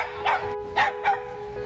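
A small shelter dog gives three quick, high yipping barks close by, short bursts spaced unevenly over a faint steady hum.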